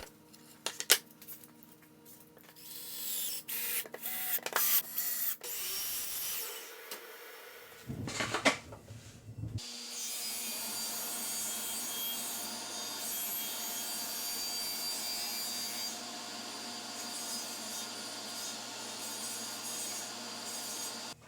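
A table saw cuts through a sled to square it with the miter slot: clattering handling noises first, then a steady, loud whirring cut that runs on unbroken.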